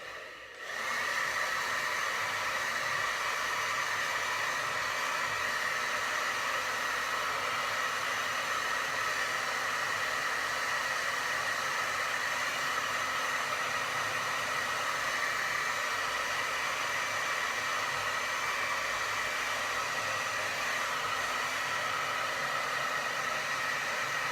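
A hair dryer runs steadily and close for the whole stretch, drying pink paint on a clipboard, a loud, even airy roar with no talk over it.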